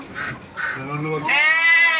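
A goat at a resort in Bulacan, Philippines bleats loudly and close by, a long wavering cry following a few short voiced sounds, with people talking just before.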